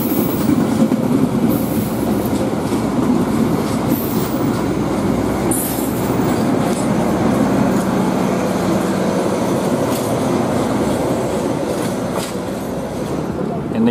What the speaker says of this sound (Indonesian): Ini sekarang Taksaka dari Jogja ke Jakarta sudah masuk stasiun Wates.